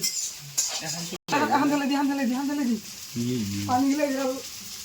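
Meat frying with onions in a pan, a steady sizzle running under near, continuous talk in Assamese with a brief clink midway.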